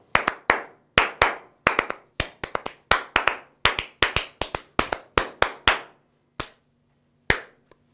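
A guitar demo class claps out a rhythm: crisp, close hand claps in uneven patterned groups, some quick doubles, then sparser single claps with a faint low hum beneath, no talking.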